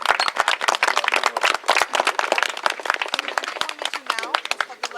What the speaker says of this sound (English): You deserve a round of applause for the